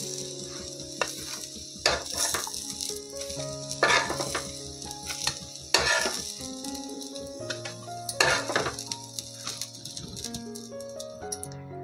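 Aloo tikki potato patties sizzle and crackle steadily as they fry in a pan, with intermittent louder scraping and flipping noises close by and no talk.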